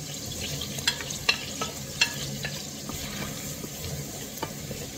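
Onion sautés in oil in a home-kitchen pan for sautéed squid: a continuous close sizzle broken by light, irregular stirring clicks and scrapes over about five seconds.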